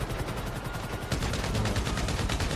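Sustained machine gun fire in the game GTA V, a dense, rapid stream of shots that continues without a break and grows slightly louder partway through.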